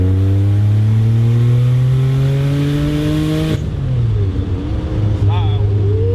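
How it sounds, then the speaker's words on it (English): A twin turbo Porsche 930 accelerates hard in second gear, its engine note rising steadily and loudly for several seconds before the throttle lifts and the revs drop, with people talking over the engine. "Alright, so let's do a little second gear pull here."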